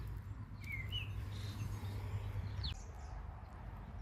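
A small bird sings a few brief, high chirps and whistles in a garden, faint and somewhat distant, over a low steady background hum.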